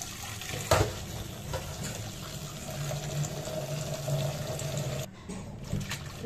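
Green chilies rinsed under a running kitchen tap, with a steady splashing, trickling stream close by and a brief clatter early on.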